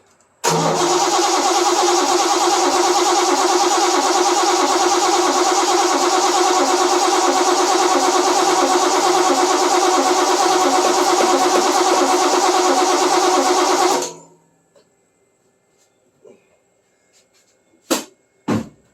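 A 1970 Triumph TR6 engine cranks and catches, then runs loud and close for about fourteen seconds with a slightly uneven, galloping idle before shutting off, leaving a few faint knocks.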